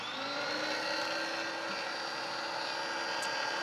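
A Swirlio machine grinds frozen bananas and strawberries with a steady, continuous motor whir and buzz that stays even throughout, with no talking.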